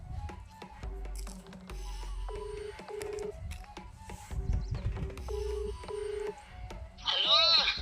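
A phone is dialed with a series of short, clear keypad tones in an uneven rhythm, set against low background noise, followed by a brief chirping sound at the end.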